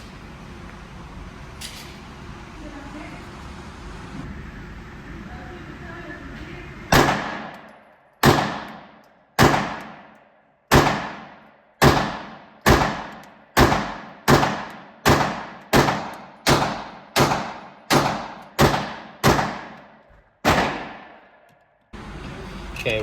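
A Crosman CR920XP air rifle fires a rapid string of about fifteen sharp, loud cracks, each with a short decaying tail, after a quiet stretch of background noise.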